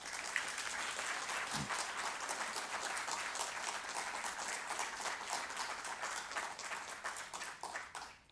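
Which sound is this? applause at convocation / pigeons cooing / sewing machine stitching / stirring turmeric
applause at convocation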